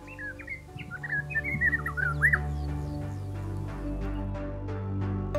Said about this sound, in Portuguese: podemos desfrutar de cantos impressionantes de diferentes aves